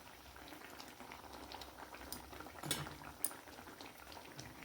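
Bata fish curry simmers in a pot in a village kitchen, a faint, continuous bubbling with occasional soft clinks and a couple of brief sharper knocks, no talking.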